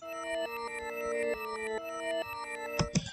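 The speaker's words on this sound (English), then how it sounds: "And if I reverse it, you can hear it sounds like this." A reversed sample loop played back in Maschine, sustained tonal chords that swell and cut off in a steady rhythm, ending in a brief burst of noisy hits, heard alone.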